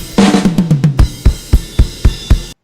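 Unprocessed rack tom from a band mix: a quick descending fill of six or seven hits, then slower evenly spaced single strikes, each boomy with a ringing tail, close and loud with no voices.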